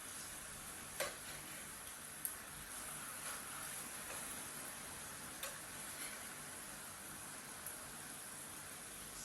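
Glazed tofu sizzles in a pan as the pieces are flipped, a soft, steady frying hiss broken by a few small ticks and taps, faint and unbroken throughout.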